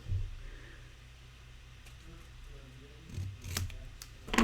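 Scissors trim the end of a handmade gift bag, giving a few close, brief snips and rustles against a quiet background.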